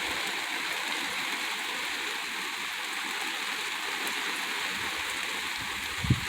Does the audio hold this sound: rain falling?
yes